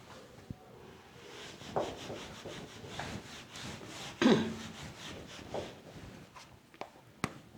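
Rubbing a figure off a board during a maths lesson on circle equations: a steady scuffing, rubbing sound close by with a few sharper knocks, no talk.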